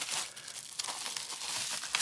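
Plastic wrapping on a Japanese K-pop album crinkles and crackles continuously up close as the packaging is pulled open, with no voices.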